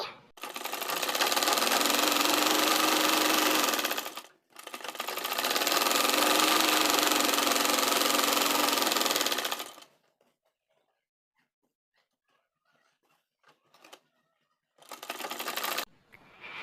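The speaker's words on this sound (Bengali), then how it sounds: "এটাকেও আমি এভাবে বরাবর সেলাই দিয়ে নিচ্ছি" Sewing machine stitching a printed three-piece kameez fabric, running loud and steady in two long bursts, then falling silent apart from light handling noises and a last short burst of stitching near the end.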